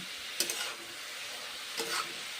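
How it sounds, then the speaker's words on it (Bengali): Cabbage and winter vegetables with green chillies and a small bitter gourd stir-fried in a pan: a steady close sizzle broken by two brief scraping stirs, with no voices. "কষে কষে নেড়ে চেড়ে কুন্তি করে কুক করছি"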